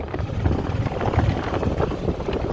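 A 2015 EZGO TXT gas golf cart drives around a parking lot, its small engine giving a steady close-up drone with rough low rumble and some wind noise across the short stretch.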